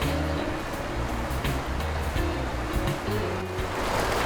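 Water rushes steadily through the Pascoe River crossing on Frenchman's Track in Cape York, a continuous broad wash with no break, fairly loud and close.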